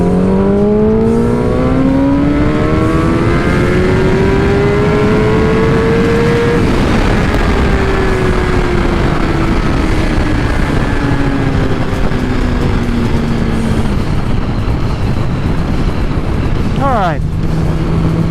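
A 2019 Kawasaki ZX10R fitted with velocity stacks revs hard through the gears on a pull, climbing through each gear with a drop at every shift, loud, close and continuous under heavy wind noise.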